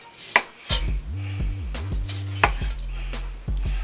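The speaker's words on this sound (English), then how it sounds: "I'm going to go ahead and cut up a lime here as well" Knife slicing a lime on a cutting board for a red snapper dish, a few sharp chopping thuds spaced irregularly, close and fairly loud, with a low steady hum running beneath.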